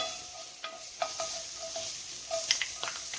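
Garlic frying in a pan for Sicilian rice balls, a soft continuous sizzle with scattered utensil taps and stirring scrapes, close and fairly quiet, no talking.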